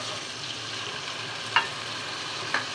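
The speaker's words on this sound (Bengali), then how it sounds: "মশলাটা এখন ভালো করে কষিয়ে" Ginger-garlic spice paste with ground coriander, turmeric, dried chilli, salt and a little water fries in a pan, giving a steady soft sizzle with two brief scraping stir strokes.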